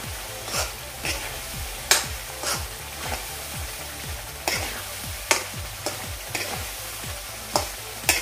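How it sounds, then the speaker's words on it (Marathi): A ground spice masala paste fries and gets stirred in a pan for a rustic crab curry, with a steady close sizzle and a scrape of the spoon against the pan roughly every half second to second. "वाटणामध्ये मसाले हे मिक्स करून व्यवस्थित असे फ्राय करून घेऊया"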